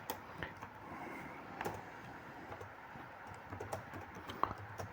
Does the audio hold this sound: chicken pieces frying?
no